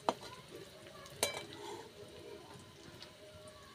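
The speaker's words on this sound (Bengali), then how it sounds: "পেঁয়াজগুলো ভাজা ভাজা হয়ে গেছে" Onions frying in a pan with salt added, for a Bengali pangas and tengra fish curry, giving a steady soft sizzle with a few sharp stirring scrapes near the start and middle.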